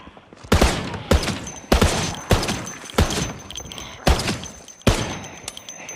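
Gunfire in the zombie survival game Project Zomboid, loud booming shots about every half second to second, seven or eight in a row, each with a brief rumbling tail, unevenly spaced as the gun jams.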